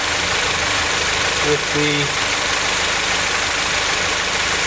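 A Honda Prelude engine idles steadily and close, a continuous even drone with a brief tonal blip partway through and a voice speaking over it.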